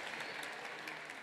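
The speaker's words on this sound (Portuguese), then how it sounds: "uma salva de palmas" Audience applause at a talk event, a faint, distant, steady spattering of many hands clapping with no voices.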